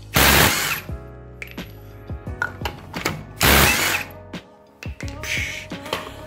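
A Ryobi cordless impact tool hammers at the crankshaft pulley bolt of a 2006 Honda Civic Si, firing several loud, close, rattling bursts separated by short pauses.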